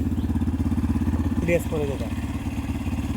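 A motorcycle engine idles close by with a steady, throbbing low pulse that runs the whole time, while a person speaks briefly over it partway through.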